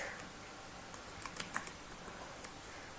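Keystrokes tap out a sudo passwd command on a computer keyboard, soft and fairly faint, with scattered clicks and a few sharper presses in an uneven rhythm against a quiet background.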